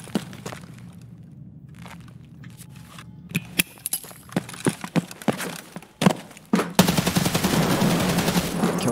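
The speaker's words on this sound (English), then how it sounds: "You heard that shot, yeah?" Sharp gunshots ring out in an Escape from Tarkov raid, a scattered series of loud close cracks mixed with quieter distant shots, building into sustained dense firing near the end.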